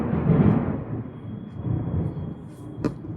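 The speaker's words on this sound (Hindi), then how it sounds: "बिजलियां कड़क रही हैं।" Thunder cracks and rumbles during a heavy rainstorm, a broad loud roll building early then easing, with a sharp crack near the end over steady rain noise.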